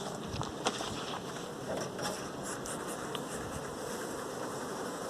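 Honeybees buzzing steadily around open beehives in a guided hive visit, a constant dense hum of many bees close by with faint scattered clicks.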